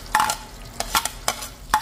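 Garlic and onion sauté in plenty of butter in a pan, with a few sharp scraping stirs and bursts of sizzle against a low, steady frying hiss, close by.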